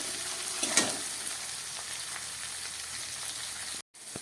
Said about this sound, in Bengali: এবার দিয়ে দিচ্ছি টমেটো।